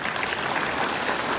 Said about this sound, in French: je vous demande des applaudissements pour Marie-Jo,